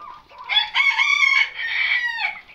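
A single Aseel Parrot rooster crows loudly and close by, a drawn-out harsh call of a couple of seconds with no talking.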